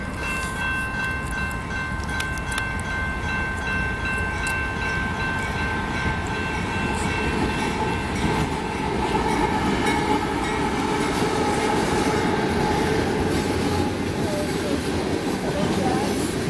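A Canadian Pacific mixed freight train rumbles steadily southbound past close by in Airdrie, Alberta, a continuous heavy roar of wheels and cars with faint metallic squeals on top.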